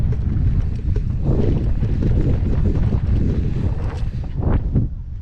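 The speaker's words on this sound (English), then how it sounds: "it's a bit windy" Strong wind buffets the microphone outdoors at an e-MTB trail with berms, a constant loud roaring rumble with gusty swells.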